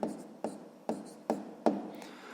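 A pen or pencil writing a sum in kopecks into a sixth-grade maths exercise book, producing five short, close scratchy strokes at a steady rhythm, each fading quickly, with no talking.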